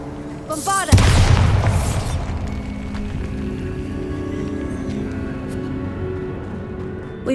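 In Hogwarts Legacy, the Bombarda spell explodes inside a tomb with one loud, close boom right after a short voice, then a long rumbling decay that fades into a low ambient hum.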